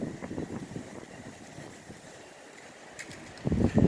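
Gusty outdoor wind buffets the microphone with low rumbling bursts, strongest at the start and end, with no talking.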